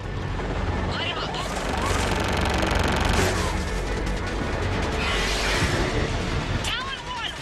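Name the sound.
gunfire from weapons in Mass Effect 3 video game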